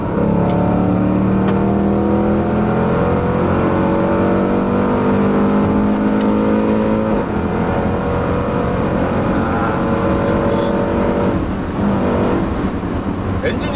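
A Range Rover Sport SVR engine pulls hard at high speed, a loud sustained roar with rising harmonics as the SUV accelerates, steady and close with road noise underneath.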